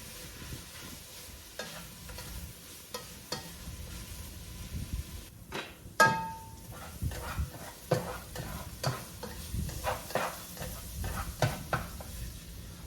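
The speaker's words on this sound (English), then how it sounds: "So now I'm gonna saute this for about 10 minutes." Mushrooms and TVP sauté in avocado oil in a pan, giving a soft sizzle broken by repeated scraping and stirring clatters, including one sharp utensil knock, with no voices.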